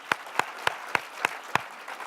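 Audience clapping for a panel, six sparse, separate claps in a slow, uneven rhythm, close and fairly faint, like a lone pair of hands rather than a full crowd.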